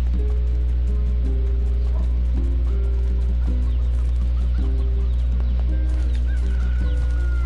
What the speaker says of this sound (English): Hey, you stupid chickens, give me your goddamn eggs.